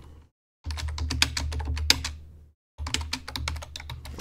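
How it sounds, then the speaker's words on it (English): Fast, close clicking of keys being typed on a computer keyboard, two brisk bursts separated by a short silent pause. "I'm also going to type on the screen."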